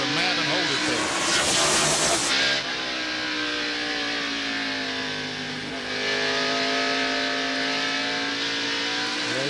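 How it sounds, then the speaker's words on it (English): A 1991 NASCAR Winston Cup race car is heard from onboard, its engine howling loudly and then easing and rising again as the throttle comes off and back on, with rising and falling harmonic tones under commentary. "We hear Ernie on and off the throttle, on and off the throttle."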